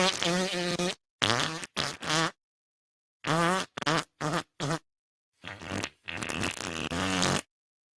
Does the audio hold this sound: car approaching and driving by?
no